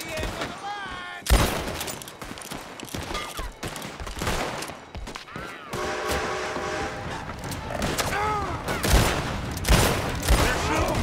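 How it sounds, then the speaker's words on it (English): Rifle and pistol shots crack through a Red Dead Redemption 2 shootout, coming as irregular loud bursts and a rapid volley amid shouted voices and background combat noise. "They're shooting from that building!"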